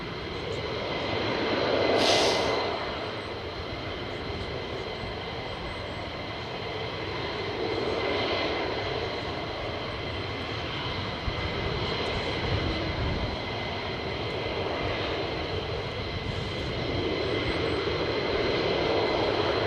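Military jet taking off from an airbase, a steady broad engine roar that swells and fades at a distance, with no voices over it.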